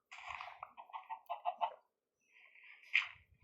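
A few short, bright clucking calls from a chicken in Minecraft hardcore mode, in quick bursts, followed by a brief pause and a higher squawk.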